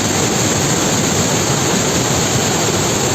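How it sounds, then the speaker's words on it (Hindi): Floodwater from a cloudburst pours down from above in Premnagar, Kishtwar, a loud, unbroken roaring rush close by that fills everything, with no voices. "ये देखिए पानी कितना बह रहा है ऊपर से"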